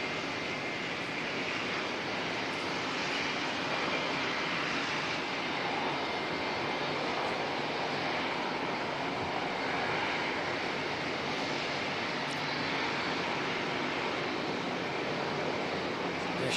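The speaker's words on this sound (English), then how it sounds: "NZ539 in the foreground heading off to Christchurch, and 538 going to take its place." A passenger airliner taxis and departs at Auckland Airport, producing a steady, continuous jet engine roar held at distance without any break.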